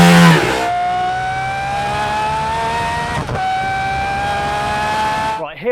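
An Aston Martin Valkyrie V12 screams past, loud and close, its high-pitched engine note holding and climbing steadily over several seconds before the sound cuts off.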